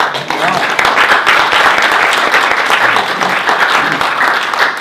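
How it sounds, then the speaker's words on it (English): Audience applause for an event organizer, dense sustained clapping from a large crowd filling the whole stretch, loud and steady with no speech over it. "Let's give her a round of applause again."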